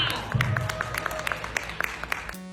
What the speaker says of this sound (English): Final round of applause for your ultimate Grand Supreme contestant number 38